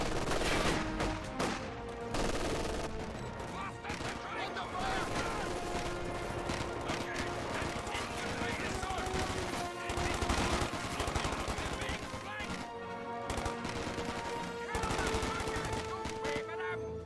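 Dense, continuous gunfire and rifle-grenade blasts from a Company of Heroes 2 World War II battle, with bursts of machine-gun fire and shots layered throughout, loud and busy, with occasional voices mixed under the combat.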